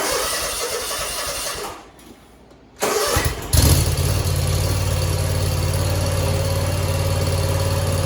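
A Kawasaki V-twin on a Hustler Fastrak zero-turn mower with a 54-inch deck cranks briefly, falls quiet, then fires and settles into a loud, steady nearby idle with a deep low rumble.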